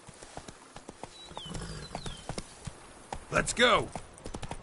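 Roach the horse's hooves clip-clop in a steady walking rhythm in The Witcher 3, with a loud snort or whinny partway through and a voice talking over the hoofbeats.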